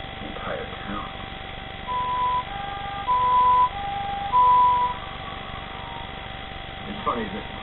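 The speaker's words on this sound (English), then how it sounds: "when you hear that sound of an ambulance" A muffled two-tone ambulance siren sounds in a few short alternating bursts over a low background murmur of voices, in Japan.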